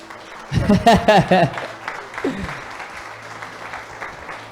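A church congregation applauds, with a few raised voices rising over the clapping at first before it settles into a softer, steady patter.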